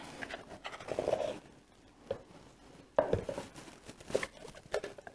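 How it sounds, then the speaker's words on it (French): A spatula folding whipped cream into a lemon mousse mixture in a bowl: soft, irregular scrapes and squelching dabs, close and fairly quiet, with brief pauses between strokes. "je vais prendre ma spatule et je vais mettre la chantilly dans la préparation"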